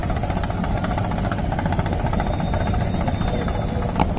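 A trawler boat engine runs near a launch ghat, a dense, steady mechanical chugging and vibration holding at moderate level throughout, with a brief knock near the end.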